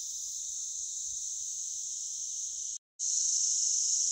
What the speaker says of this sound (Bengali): ঝিঝির ডাক শোনা যাচ্ছে,